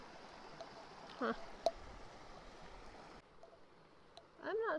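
Deep Creek flows along the Pacific Crest Trail with a steady, moderately close rush of water that stays even throughout, broken by a few brief faint chirps and soft sounds near the end.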